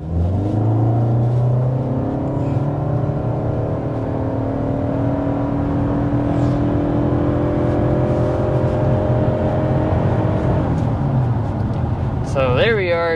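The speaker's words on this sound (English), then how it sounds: "So there we are, going well past 60 miles an hour with the Camry SE." A 2025 Toyota Camry SE climbing a very steep grade at over 60 mph, its engine droning loud and steady with rising tones as it accelerates, while someone talks over it throughout.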